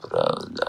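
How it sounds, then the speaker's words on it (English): A short, close burp from a baby rumbles out, with a voice speaking briefly around it. "Did you just burp him?"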